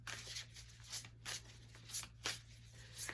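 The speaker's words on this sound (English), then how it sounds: "I'm going to go ahead and do some shuffling, you guys." A deck of cards being shuffled, heard as faint, soft riffling bursts repeating roughly every half second over a low steady hum.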